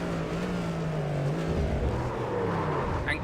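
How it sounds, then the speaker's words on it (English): A GT3/GTP race car in a racing video game at Le Mans, its engine droning steadily and falling in pitch through a downshift under braking, with a brief tyre lock-up. It is loud and close throughout. "sounds as though it was a little bit of lock-up, but also dropping off of the entry curve there on the rear left-hand side tyre on the downshift"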